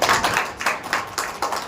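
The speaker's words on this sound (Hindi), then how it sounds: "सबसे पहले आयोजकों के लिए एक बार हम ताली बजाएं।" A community-gathering audience claps for the event organisers in a short, dense burst of many hands, with the clapping swelling and dipping in loose waves throughout.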